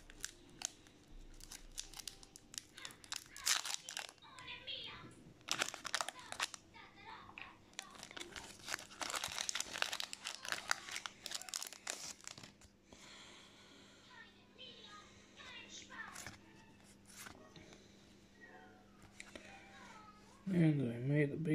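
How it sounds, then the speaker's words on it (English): Magic the Gathering card packs are ripped open with tearing and crinkling wrapper sounds, mixed with quiet voices. "Opening Magic the Gathering cards."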